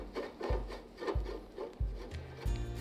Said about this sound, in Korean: 상단 기둥은 돌려서 결합을 진행해 주시면 됩니다